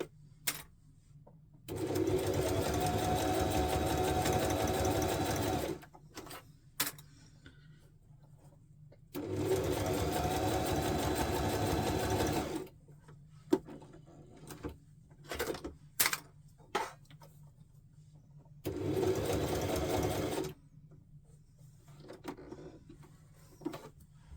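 A sewing machine runs in three sustained stitching bursts of a few seconds each, working through the inner part of a garment, with quiet pauses and small handling clicks between runs.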